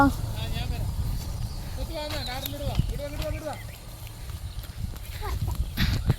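Buffaloes walk home along a muddy village road, their hooves clopping steadily at low level beneath continuous talking and outdoor background noise.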